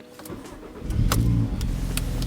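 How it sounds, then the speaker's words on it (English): An Audi RSQ3 engine cranks and catches, then settles into a steady, throaty idle, close and fairly loud with no one speaking. "Start the engine up again."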